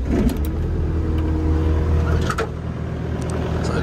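A Yanmar Vio80 excavator's diesel engine idles steadily and loud right after a cold start, with a low continuous rumble and a few faint clanks over it.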